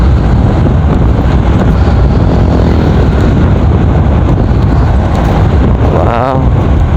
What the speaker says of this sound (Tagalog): malakas yung hangin, wag lang tayo ulanin